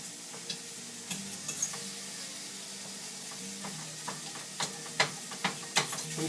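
Fat melts in a pan for a shrimp and pasta dish while a fork scrapes and stirs it, with faint sizzling under a series of soft irregular clicks and taps.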